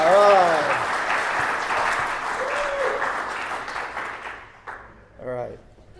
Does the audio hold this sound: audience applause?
yes